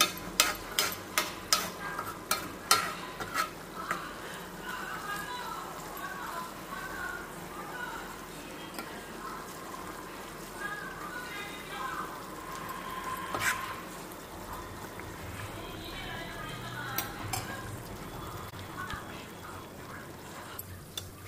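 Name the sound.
food frying and being stirred in a pan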